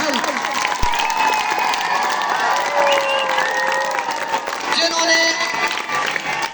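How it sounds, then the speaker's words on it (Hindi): Audience applause at a farewell ceremony honoring a scholar, a dense, steady clapping crowd sustained throughout, with voices and some whistle-like tones over it. "अगर तालियां लगानी हो तो थोड़ी सी बुलंद आवाज से लगाइएगा।"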